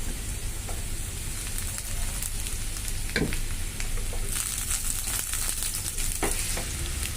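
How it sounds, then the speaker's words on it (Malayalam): Onions and potatoes fry in a pan with a continuous sizzle, punctuated by occasional scrapes and clatters of stirring, close and steady. "സവാട വഴണ്ട് വന്നിട്ടുണ്ട് ഇനി നമുക്ക് അതിനകത്തോട്ട് ഉരുളക്കിഴങ്ങ് ചേർത്ത് കൊടുക്കാം"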